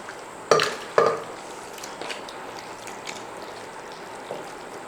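Drained, washed beef is tipped into a pressure cooker, giving two sharp, loud thuds early on, followed by faint scraping and handling noises in a quiet kitchen.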